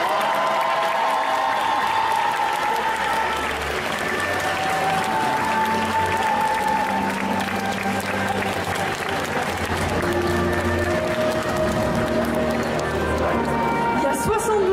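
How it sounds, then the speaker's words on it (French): Steady applause and cheering from a crowd at a cosplay contest at Festival Yggdrasil Indoor, honouring a Sirius Black cosplay; loud, dense clapping continues throughout with voices in the mix. "Je vais vous demander d'applaudir Goku 81 en Sirius Black"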